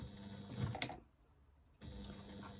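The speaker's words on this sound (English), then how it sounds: "you're going to stitch along that bottom edge of your pocket using an 1/8 inch seam allowance" A sewing machine stitches along the bottom edge of a bag lining pocket with an eighth-inch seam allowance, giving a steady close mechanical whir that stops for about a second and then starts again.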